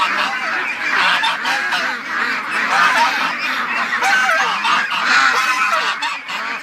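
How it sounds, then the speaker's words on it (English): A flock of young ducks calling in a noisy, continuous chorus of overlapping honks and quacks, close and loud, with no pause throughout. "These are all young ducks, really confused."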